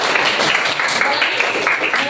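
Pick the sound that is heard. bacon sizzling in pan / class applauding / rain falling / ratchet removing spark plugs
class applauding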